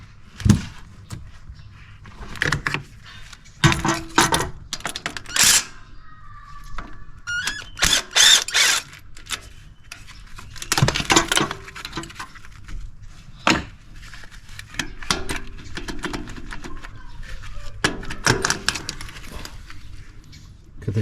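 Wrench work on the 14mm starter motor bolts of a 2014 Toyota Camry, a series of scattered metallic clicks, knocks and tool clatter spread unevenly over about twenty seconds, close by with no talking.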